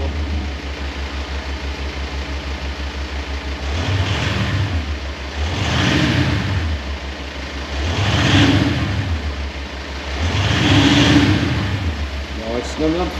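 VW Amarok pickup fitted with a Kufatec exhaust sound booster, idling with a steady low drone and revved three times in slow swelling rises and falls, close and fairly loud.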